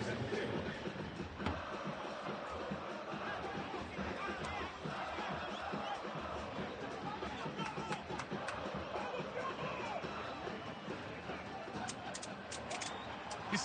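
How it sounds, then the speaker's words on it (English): Dense stadium crowd roars and chants continuously at an Estadio Caliente football match, a loud, steady wall of cheering voices with occasional sharper shouts and a commentator-free bed of noise throughout. "Crowd going wild as Piojo was walking up with La Gente."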